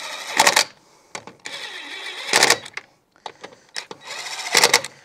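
Wrench tightening wheel spacer bolts on a Mk1 Audi TT, with several short, close mechanical whirring and rattling bursts separated by quiet gaps and faint clicks.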